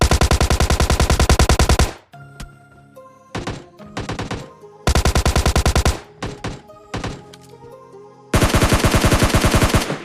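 Video game gunfire comes in loud, rapid automatic bursts, with long sustained volleys separated by shorter clusters of single cracks and thuds. No talking is heard.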